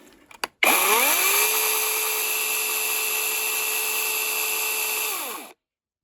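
A Ferrex battery brushless chainsaw from Aldi starts after a few clicks, rises quickly to a steady high-pitched electric whine with chain rattle, runs for several seconds up close, then winds down and stops.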